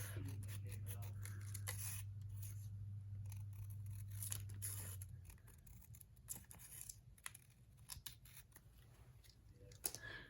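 Scissors snip a piece off a diamond art kit, giving a close series of crisp cuts and plastic rustles, with a steady low hum that drops out midway.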